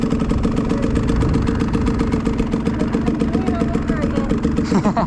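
A motorcycle engine runs steadily close by under light, easy throttle, with a continuous low drone and a slight rise near the end. A person talks over it.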